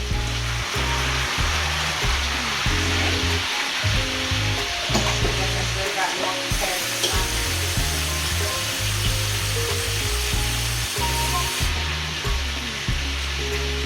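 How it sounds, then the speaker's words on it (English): Water pours into a pot of Jamaican curry chicken sizzling over medium-low heat, a steady loud frying hiss that carries on without a break, with no talk and a few clanks now and then. "I'm pouring about 2 cups of water in."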